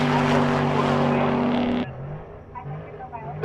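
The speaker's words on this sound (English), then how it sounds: "That's quite an exhaust." An El Camino at a drag-racing event roars with a loud, droning exhaust that cuts off abruptly, leaving quieter crowd noise and voices behind.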